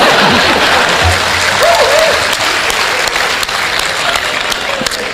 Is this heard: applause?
yes